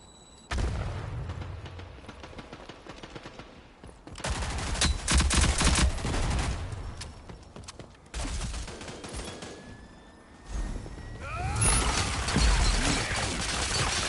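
Automatic gunfire in a first-person shooter video game fires in long loud bursts, separated by short pauses and overlapping shots.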